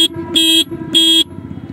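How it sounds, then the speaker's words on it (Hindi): Horn of a TVS Ntorq Race Edition scooter sounds twice, two short loud electric beeps of about a quarter second each, close up over a faint idling hum. "हॉर्न कुछ ऐसा मिलता है"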